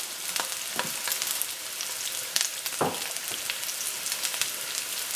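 Onions sweating in a hot pan, a steady bright sizzle and crackle with occasional louder pops and stirring scrapes, close up and uninterrupted by talk.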